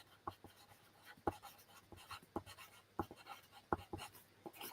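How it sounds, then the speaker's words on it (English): A pencil scratches across paper at a desk while the month is written out, giving soft, close strokes in short irregular bursts with brief pauses between words. "There's a pencil. That'll do. And we'll work on February, shall we? So we'll write February."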